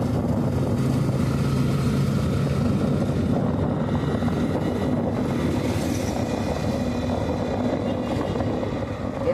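A motorcycle ridden along a highway near Malalag, Davao del Sur, a continuous engine hum blended with wind and road rumble, steady and close, with no speech.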